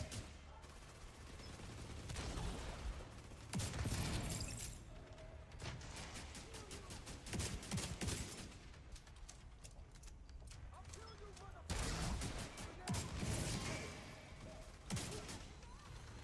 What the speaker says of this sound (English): Man, this like artillery turret thing that I have is kind of cheating.